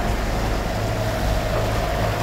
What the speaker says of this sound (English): I'm still going to keep the engine revs at about 1800.